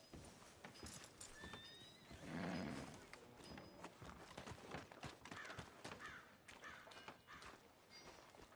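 A horse whinnies clearly amid hoof clops and a busy outdoor Red Dead Redemption 2 game backdrop, with faint birds calling in the distance.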